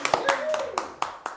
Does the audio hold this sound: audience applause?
yes